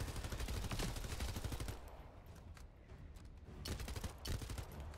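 Rapid SMG gunfire in the video game The First Descendant, bursts of shots close up that briefly thin out midway and then pick back up.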